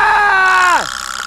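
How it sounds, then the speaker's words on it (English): A child screams in a high, sustained harmonic wail during a pretend game of hospital and doctor with a father; the loud cry holds steady, then drops sharply in pitch and breaks off, followed by quieter room noise. "Why are you screaming?"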